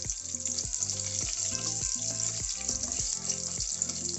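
Fennel and pepper sizzle in a pan over medium flame for a Punjabi dhaba mutton gravy, a constant bright frying hiss broken by rhythmic stirring scrapes about every half second.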